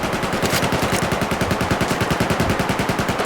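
Rapid automatic gunfire from the video game Battlefield 4 comes as a loud, continuous, evenly spaced burst of shots lasting the whole moment.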